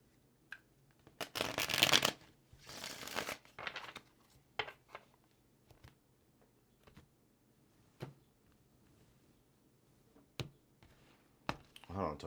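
Tarot cards are shuffled close up, with a couple of strong riffling bursts early on followed by softer scattered card slides and taps against a quiet, humming room.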